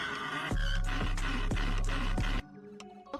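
Several sharp, loud percussive bursts arrive in a rhythmic run under a dense, buzzy texture, then cut off abruptly, leaving a quieter stretch with faint tonal blips. A whinny-like quality colours the sound, with no talking.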